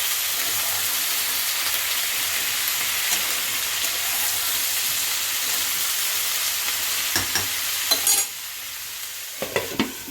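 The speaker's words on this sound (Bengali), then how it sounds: "এবার এটাকে আমি ভালো করে নাড়াচাড়া করে ভাজা করে নিচ্ছি" Malabar spinach sizzles and hisses steadily as it fries in a pan with turmeric and salt. A few clanking stirs and scrapes sound near the end, and no one speaks.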